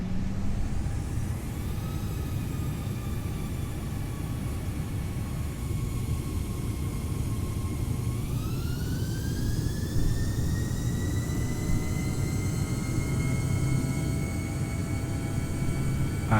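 Airbus A318 jet engines spooling up for takeoff in Microsoft Flight Simulator 2020: a steady loud roar with whining tones that climb sharply in pitch about halfway through, then hold high as thrust builds.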